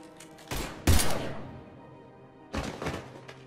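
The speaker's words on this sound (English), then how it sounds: "Now open fire!" Gunfire erupts in Mass Effect 3, with two separate bursts of sharp weapon shots a couple of seconds apart, loud and close with ringing decay between.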